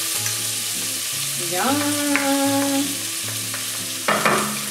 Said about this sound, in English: We're gonna throw in our green onion. And our garlic.